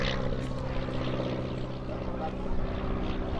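An Auster AOP.6 propeller aircraft circles tightly at an air display, its engine a steady, droning buzz with a slight rise and fall, heard continuously at moderate distance.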